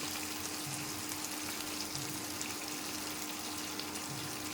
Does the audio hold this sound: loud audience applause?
no